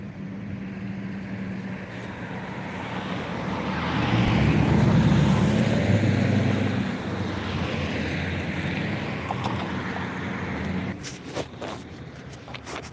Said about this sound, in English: That was a scooter, y'all.